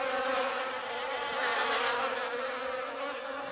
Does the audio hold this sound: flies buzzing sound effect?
yes